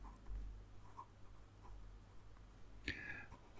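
A Makuzai fountain pen with a 1.1 stub nib scratches faintly across a Leuchtturm1917 notebook page, a soft continuous close-up scritching with a faint voice murmuring.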